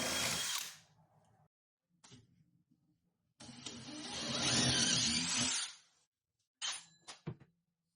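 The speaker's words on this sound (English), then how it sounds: "We'll start out with just regular drill bit because it's just particle board, so it should go through pretty smooth." A power drill with a regular bit bores holes through a particle board kitchen cabinet in several separate bursts, the longest a loud grinding run of a few seconds, with short quiet gaps and brief clicks between.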